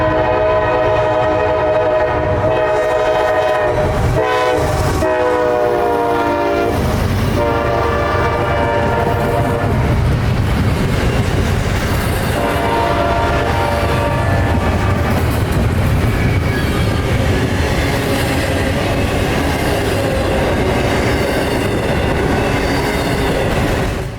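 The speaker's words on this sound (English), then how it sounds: "the first train that I would see after arriving back in town would be southbound intermodal I-154, with a nice YN2 AC44 on point" CSX southbound intermodal train I-154 led by a YN2 AC44 locomotive sounds its horn in long blasts near the start, then rumbles steadily past with continuous wheel and car noise throughout.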